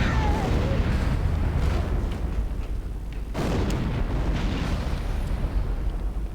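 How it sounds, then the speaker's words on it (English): A loud, rumbling explosion in the video game Halo, with a heavy boom that fills the whole stretch, dips briefly midway and then swells again as a second roaring blast, with no talk over it. "And he dies in an explosion."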